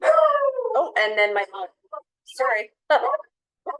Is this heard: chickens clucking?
no